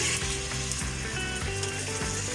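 A large sliced onion sizzles steadily in hot oil, a continuous close frying hiss with faint stirring clinks.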